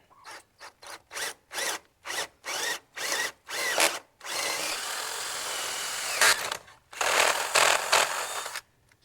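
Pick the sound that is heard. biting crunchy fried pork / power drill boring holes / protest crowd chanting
power drill boring holes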